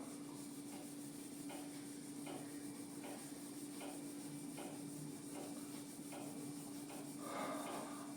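A duster rubs across a classroom board, erasing a written physics derivation in steady repeated strokes, soft scraping swishes at a near-regular rhythm over a constant background hum, no talking.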